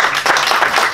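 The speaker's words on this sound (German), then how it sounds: "Lass mal kurz einen kleinen Applaus zukommen lassen." A brief burst of audience clapping at a business lecture on company succession, moderately loud and over within about a second, with no talk on top.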